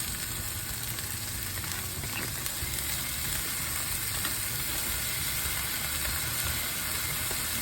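Shredded slaw hitting a pan of cooked meat for eggroll in a bowl, a soft steady frying hiss with faint stirring scrapes, fairly quiet and even throughout without speech.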